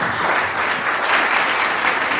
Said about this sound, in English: I believe he deserves a heartier hand clap than that.